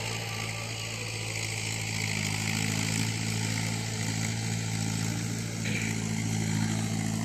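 Motor running beside a farm well (ogu) that feeds three-inch pipes near a check dam, a steady loud drone with strong low hum throughout, no voices.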